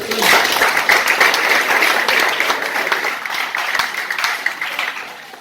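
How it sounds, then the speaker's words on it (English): Dense, sustained applause from a school audience of students and staff, loud and continuous across the whole stretch before slowly thinning toward the end, with no talk over it. "I think you deserve a round of applause for yourself."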